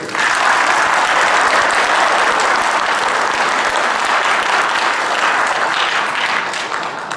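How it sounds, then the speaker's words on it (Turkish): A large crowd at a Memur-Sen civil servants' confederation event gives a loud, dense round of applause, sustained and even throughout, fading slightly at the very end. "Memur Sen Konfederasyonu Genel Başkanımız Ali Yalçın Bey'e gür bir alkış istiyorum"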